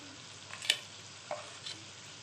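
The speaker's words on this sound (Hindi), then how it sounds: "और कीमे को अच्छी तरह फ्राई करना है ताकि इसकी स्मेल ना आए।" Minced meat (keema) frying with spices in a pan for keema kachnar, a faint steady sizzle with a few soft stirring scrapes, no talking.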